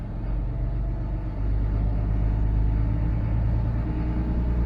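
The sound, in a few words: boat engine starting up and revving with throttle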